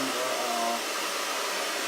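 A hairdryer blows a steady, loud, breathy rush of air onto the sensor of a Kidde heat alarm. The sound holds constant throughout, with no voices.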